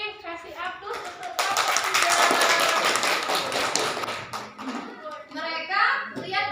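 Students in a classroom give a burst of applause, dense clapping and tapping lasting a few seconds, framed by a speaking voice before and after.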